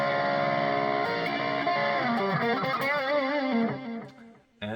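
Electric guitar played through a Marshall Plexi amp model on a Spark Mini practice amp with gate, drive, delay and reverb, sustained distorted chords and a bending melody ringing out before fading.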